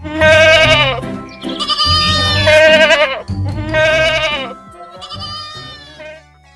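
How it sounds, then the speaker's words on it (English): A goat bleating loudly and close in several long, wavering calls with short pauses between them, and no other sound competing. "G for goat."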